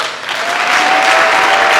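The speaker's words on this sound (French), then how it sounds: "Nous applaudissons" An audience claps after a finance minister's speech at a Congolese public address, a dense, loud, sustained round of applause filling the whole short moment.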